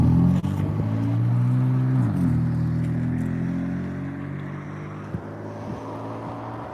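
A BMW M3 idles and manoeuvres near the Rufford ford, its engine a steady low hum that dips and shifts as it turns around, then fades slightly, fairly close with no voices.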